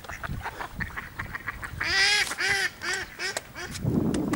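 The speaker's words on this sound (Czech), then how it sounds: "Kachny." Ducks quacking near a wooden pier, a few soft calls followed by a louder burst of several harsh, nasal quacks in quick succession, close by, with faint outdoor background.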